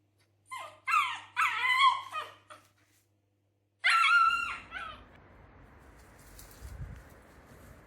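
A 13-week-old Siberian Husky puppy separated behind gates gives several high, close whines and yelps in short bursts, then falls quiet as a low background rumble takes over.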